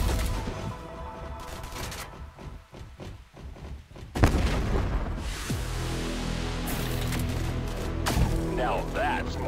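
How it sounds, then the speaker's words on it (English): Bombardment in a robot combat shooter game: a dense barrage of booming explosions and gunfire, a heavy blast landing partway through, then sustained rumbling impacts with a voice speaking over the battle. "Under bombardment!"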